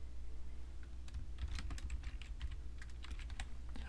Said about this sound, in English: I do have to look at the keyboard when I type